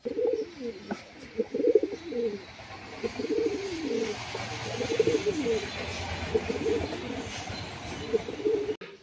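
A pair of Malbai pigeons coo close by in repeated rolling, throaty phrases, with short gaps between them over a faint background.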